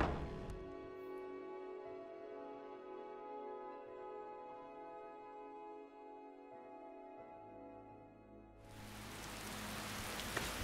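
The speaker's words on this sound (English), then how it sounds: "Unfortunately, it is still raining." Rain in modded Skyrim, a soft steady hiss with a held musical drone over it, swelling into a louder, brighter downpour near the end.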